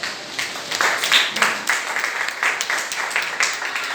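Worshippers at a fasting and prayer service clap together to acclaim the Lord, producing a continuous, moderately loud wash of applause that pulses in small surges for several seconds without any voice.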